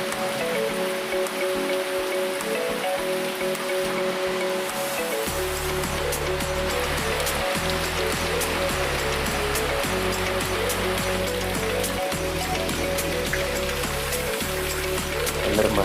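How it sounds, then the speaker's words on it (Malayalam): Heavy rain pouring down outside a house, a steady dense patter and hiss that never lets up, with a low tonal hum running underneath. "നല്ലൊരു മഴ പെയ്തുകൊണ്ടിരിക്കുകയാണ്."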